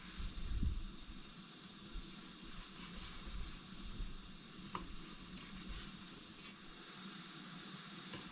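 Steak and Brussels sprouts sizzle in olive oil in a pan, a steady soft frying hiss with occasional crackles and a brief clatter near the start.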